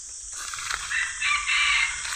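Rooster crowing in a Thai village setting: one drawn-out, bright crow of about two seconds, fairly close and clear over a quiet background, with no voices.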